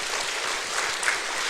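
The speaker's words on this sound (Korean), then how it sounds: "박수 한번 쳐드려요." A church congregation claps together in a dense, steady burst of applause during a Sunday worship service, fairly close and even throughout.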